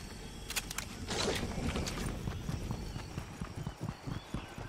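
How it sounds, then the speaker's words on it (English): Footsteps in the Fortnite battle royale game patter as a quick, close run of soft hollow steps with a clip-clop rhythm, fairly loud and steady, with no talking. "I hear footsteps."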